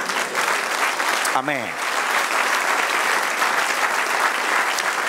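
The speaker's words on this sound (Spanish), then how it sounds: "Den un aplauso al Señor" Church congregation applauding during a sermon, a dense, steady wash of clapping with one voice briefly calling out partway through.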